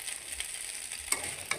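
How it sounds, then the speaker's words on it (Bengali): An egg fries in a pan for pasta, a faint steady sizzle with a couple of small sharp clicks near the end, no voices. "যখন ডিমটা ভাজা ভাজা হয়ে গেল"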